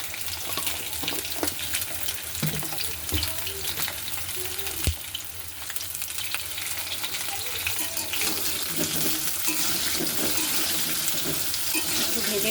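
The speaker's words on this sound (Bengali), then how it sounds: "এখানে আমি লাল লাল করে আগে পটলটাকে ভেজে নেব।" Pointed gourd (potol) pieces fry in a pan with a little salt, giving a steady close sizzle with a few soft clunks of the pan and utensil.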